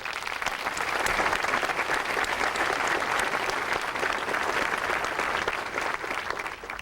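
Steady, sustained audience applause from a large crowd at the 1990 signing of the Americans with Disabilities Act, even and full throughout, tapering slightly at the end.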